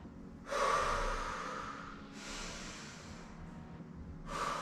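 Heavy, effortful breathing after a beginner-level workout, with loud gasping exhales and snort-like breaths in a few distinct bursts and quieter breathing between them.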